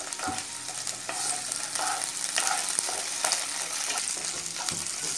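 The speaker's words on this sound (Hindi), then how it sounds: "अब हम इसमें डालेंगे अदरक और लहसुन की पेस्ट और इसको हमें चलाते हुए तब तक के फ्राई कर लेना है" Steady sizzling of ginger garlic paste frying in hot oil, with a spoon scraping and stirring the pan at intervals, close and fairly quiet.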